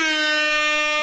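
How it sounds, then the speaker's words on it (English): A loud, sustained blast of an air horn, a single steady brassy tone lasting about a second. "I have an air horn now."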